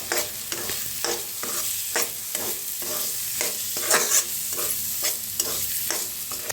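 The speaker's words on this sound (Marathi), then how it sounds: "आता मसाला सगळा मिक्स करून घेऊया" Mixed masala with coriander powder is stirred and roasted in a pan: a soft frying sizzle runs throughout, broken by regular scraping strokes of the spoon about every half second, with no talking.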